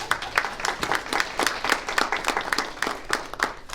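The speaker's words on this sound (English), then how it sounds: "Jan deserves a big round of applause" An audience claps for a new program director at a community ministry event, a steady round of many hands at moderate loudness, with a few voices faintly underneath.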